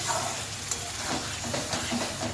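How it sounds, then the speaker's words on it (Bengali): Chicken marinade water hits a hot pan of masala chicken fry, giving a continuous broad sizzle and hiss with faint stirring scrapes throughout. "এবার আমি চিকেন ম্যারিনেট করা জলটা দিয়ে দেবো।"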